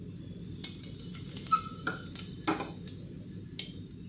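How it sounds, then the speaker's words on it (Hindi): Carom seeds (ajwain) dropped into hot oil give a faint, soft sizzle, broken by a few light clinks and stirring taps from a utensil against the pan. "तेल हमारा गर्म हो चुका है, अब इसमें हम ये अजवाइन डालेंगे"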